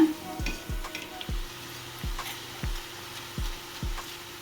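Omapodi, a crisp fried snack, cooks in hot oil with continuous bubbling sizzle, punctuated by a series of sharp, rhythmic knocks at irregular intervals, fairly close and without talk.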